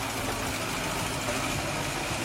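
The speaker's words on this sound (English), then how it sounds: "Our heavily loaded red forestry tractor, hauling tons and tons of valuable logs, finds itself plunging into the mud's deepest, most viscous grip." A heavily loaded red forestry tractor hauling logs churns through deep, thick mud, its engine giving a steady, loud, continuous low drone with a broad rumble and no pauses, and no one speaking.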